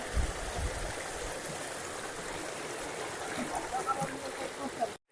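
Water flowing steadily down a hillside stream outdoors, a continuous broadband rushing and trickling that holds nearly constant, close and fairly loud, then cuts off abruptly at the end.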